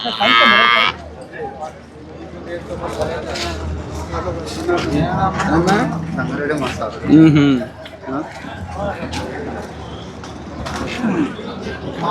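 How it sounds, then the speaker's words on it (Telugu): Cattle at the Erragadda livestock market low amid a busy crowd, with occasional moos rising over steady chatter and market bustle; people talk throughout. "ఇవైతే ఎర్రగడ్డ మార్కెట్లో ఆవులు ఇవి"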